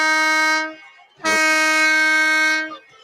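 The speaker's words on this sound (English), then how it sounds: "There's the air horn," An air horn blasts twice at a high school football game: a short toot, then a longer sustained blare, loud and tonal against a quiet background.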